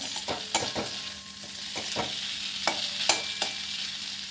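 Spoon stirring fish head curry in a frying pan, scraping knocks at an irregular pace over a steady close sizzle, no voices.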